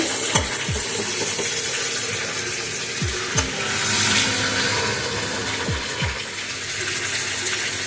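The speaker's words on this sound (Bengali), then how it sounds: "চিকেনটাকে আমি ভাজা ভাজা করে নিয়েছি, একটু ব্রাউন ব্রাউন করে।" Chicken browning in a pan sizzles with a steady hiss under repeated stirring, and sharp scraping strokes come in pairs at a few points. No one speaks.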